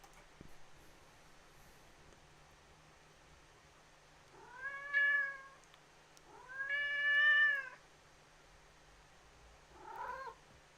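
A deaf cat meows three times, two long drawn-out wailing calls followed by a shorter one near the end, fairly close over quiet background hiss, with no speech.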